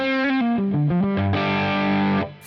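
A distorted electric guitar through a Marshall amplifier with the gain at full plays a quick run of single notes, then rings out a thick, sustained chord before cutting off.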